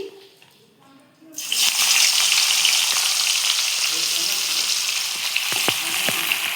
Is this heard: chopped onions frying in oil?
yes